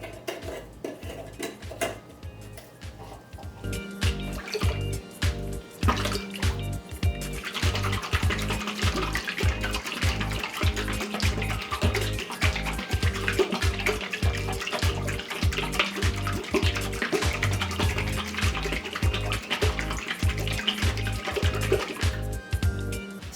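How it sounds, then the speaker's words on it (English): Oregano vinaigrette of oil, vinegar and spices is shaken hard in a lidded container, making a fast, steady rhythm of sloshing liquid and knocking that runs throughout, with the shaking growing brighter and busier partway through. "the next thing you gotta do is put your lid on there and shake"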